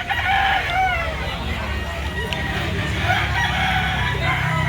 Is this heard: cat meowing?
no